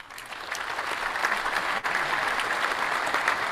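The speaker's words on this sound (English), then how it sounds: "outside of the applause, which is obviously great for you" Applause for Yidan Prize laureate Dr. Eric Hanushek, a steady, fairly loud wash of clapping from an audience that swells in and holds, with a brief dip midway and no talk.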